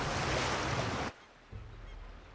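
Water sloshing around a passenger plane afloat on the Hudson River after ditching: a loud, dense rushing wash for about a second, then a sudden drop to a quieter, low rolling lap of water, with no voices.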